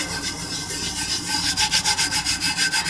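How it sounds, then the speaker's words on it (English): Fingertips lightly rubbing loose glitter over a tumbler's tacky surface, producing a soft continuous scratchy brushing with a steady back-and-forth rhythm that turns more pulsed toward the end, close and fairly quiet with no talking. "Take my fingers and very lightly start rubbing that glitter"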